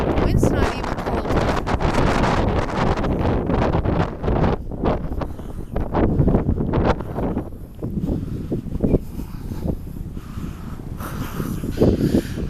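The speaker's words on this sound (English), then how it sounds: "A little windy, but overall a nice day." Wind gusting outdoors on a mild day during a walk, a steady rushing roar buffeting the microphone throughout, with rustling and brief spoken voices mixed in.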